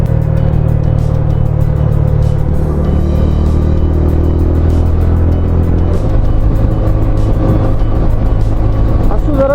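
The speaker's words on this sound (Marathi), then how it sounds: "गाड्या चालूच असतात." Continuous road traffic near Khopoli, with cars and other vehicles passing close by in a steady loud rumble and rising engine tones, and no break through the whole stretch.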